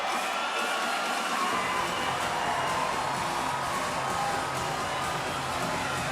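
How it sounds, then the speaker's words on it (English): Arena crowd at a Bellator MMA event roars and cheers for fighter Ilima-Lei MacFarlane, a dense, sustained wall of noise with whoops and shouts throughout. "what a reaction from this crowd"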